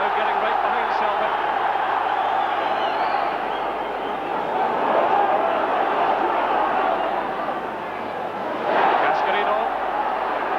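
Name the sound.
football crowd cheering on Celtic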